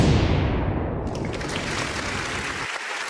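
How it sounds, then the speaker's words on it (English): Applause from an audience fades away across about three seconds, starting full and thinning out, with no talk over it. "Okay, that deserves applause. Give us some applause."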